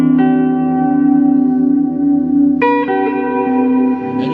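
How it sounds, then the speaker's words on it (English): Sustained guitar notes through a TC Electronic Hall of Fame 2x4 reverb pedal, ringing and echoing with a long decaying tail; a brighter new chord enters partway through. "this is just kind of another flavor of a reverb"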